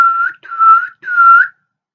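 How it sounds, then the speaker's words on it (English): Three close, loud whistles are blown through the lips, each a steady sustained note of about a third to half a second, separated by short breaks. "whistle is like a high-pitched sound that's made by forcing breath through your lips like this"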